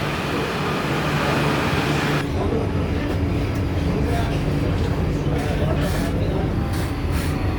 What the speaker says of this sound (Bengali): আমার ট্রেন এসে গেছে